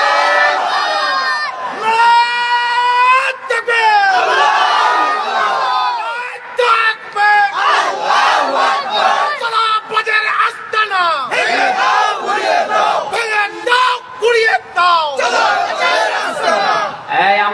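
A rally crowd chants takbir in loud, rhythmic collective shouts, repeated bursts of many voices answering together, close and energetic with brief pauses between chants.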